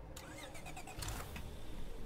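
A car engine starts in the video game State of Decay: a quick cranking whirr breaks into a low idling rumble, heard close but fairly quiet.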